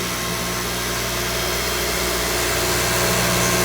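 A 1988 Toyota 4x4 van engine idles steadily after an alternator bearing replacement, giving a close, continuous, even hum with no talk over it.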